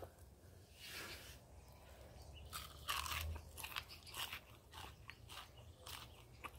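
Crunchy Brazilian pork cracklings (torresmo) being bitten and chewed close up, a few crisp crackling bursts over a low background hum, with no talking.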